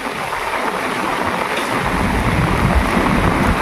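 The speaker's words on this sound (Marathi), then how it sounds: "पाऊस जोरात सुरू झाला" Heavy rain pouring down in a small village, heard as a loud, dense, unbroken roar that swells slightly partway through.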